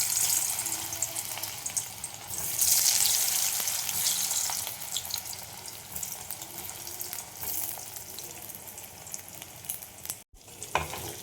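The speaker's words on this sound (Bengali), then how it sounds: "এবার আমি ভেজে নেব, আলু ভাজার ওই তেলেই দিয়ে দেব।" Cornflour-coated soybean chunks fry in oil left over from frying potatoes, giving a loud, continuous close-up sizzle with occasional stirring clatter and no voices.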